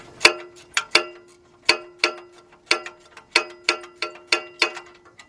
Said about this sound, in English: you can see I got my speed wrench up on the bolt